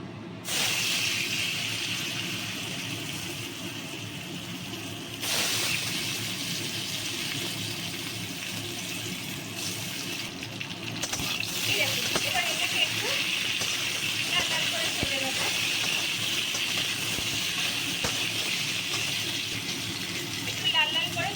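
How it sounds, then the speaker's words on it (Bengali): Potato pieces for chilli potato frying together in hot oil in a pan, a steady, loud sizzling hiss lasting throughout with occasional spatter crackles, while someone talks over it. "এবার আমি এইগুলোকে সব একসঙ্গেই ভাজবো"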